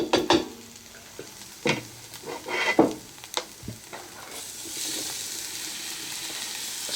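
Pork and onions frying in a pan, sizzling steadily with intermittent scraping and clanking as they are stirred; the sizzle grows louder and more continuous toward the end, with no talk.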